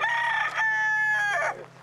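A rooster crowing loudly nearby, one long drawn-out cock-a-doodle-doo with a strained, wavering tone, heard alone.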